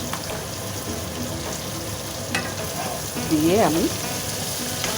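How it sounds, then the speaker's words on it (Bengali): Jackfruit and potato curry being stirred in a pan, with a steady sizzling fry and scraping throughout, a short spoken phrase partway and a brief louder clatter near the end. "সব একসঙ্গে ভালো করে মিশাচ্ছি"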